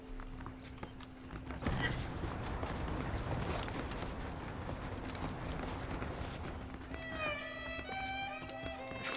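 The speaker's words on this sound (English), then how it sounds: "The horses are saddled up over here." Horse hooves clip-clop in a steady trot through Red Dead Redemption, running continuously at moderate volume over a low ambient hum, with bright game music tones rising near the end.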